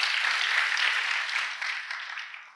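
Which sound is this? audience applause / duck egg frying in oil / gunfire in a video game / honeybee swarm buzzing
audience applause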